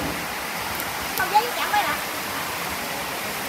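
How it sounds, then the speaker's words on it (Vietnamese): Heavy rain pours at a countryside market stall in An Hai, Tuy An, Phu Yen, a steady hiss of broadband noise filling the whole stretch, with a few brief faint voice-like sounds rising over it. "hiện tại thì trời mưa rất là lớn."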